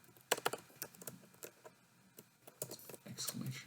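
Computer keyboard typing a first short program, heard as irregular bursts of close key clicks with a brief pause midway, then faster clatter toward the end.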